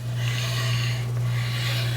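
Brakes on an electric scooter give a steady, breathy rubbing hiss for a couple of seconds. It sits over a constant low motor hum and swells slightly twice.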